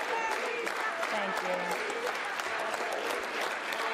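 Sustained applause fills a legislative chamber, a dense, even wash of many hands clapping at steady volume, with faint voices mixed in underneath.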